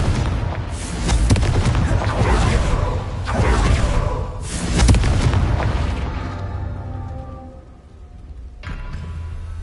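A Confringo blast spell cast in a PS4 video game, a series of heavy booming explosions with whooshing bursts, loud and close, rolling in waves before trailing off into quieter rumble.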